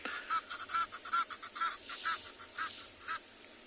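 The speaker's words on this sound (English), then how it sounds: "And now there's Egyptian geese that's calling." Egyptian geese calling on an afternoon safari in South Africa, a run of repeated nasal honks at a fairly steady rhythm, moderately distant over a low outdoor rumble.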